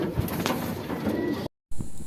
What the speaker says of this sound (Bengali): তা আমার কবুতর যেহেতু বেশি